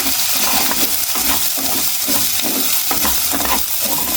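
A utensil scrapes and stirs through a thick sizzling ginger-garlic paste in a pan, rhythmic strokes over a constant frying crackle.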